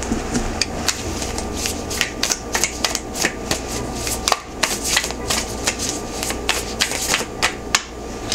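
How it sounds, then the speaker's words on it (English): Oracle cards being shuffled by hand, giving a steady run of quick, crisp flicks and riffles that repeat up close, with no talking. "I'm pulling out oracle cards because I didn't pull any for you"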